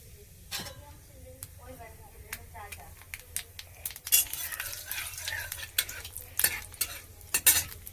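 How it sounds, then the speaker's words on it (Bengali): Black cumin seeds hit hot oil in a hot pan, crackling and popping in quick bursts, with clinks of a utensil against the pan and a voice talking in the background. "ফোড়নে দিচ্ছি কালো জিরে"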